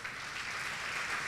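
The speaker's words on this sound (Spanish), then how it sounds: "Vamos a dar un aplauso por ellos" Church congregation applauding during a Spanish-language family service, a steady dense wash of clapping at low level with no pauses across the short stretch.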